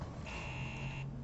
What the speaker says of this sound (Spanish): Alarma activada, iniciando investigación.